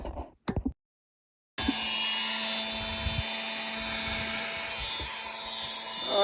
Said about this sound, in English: So let me get my Dremel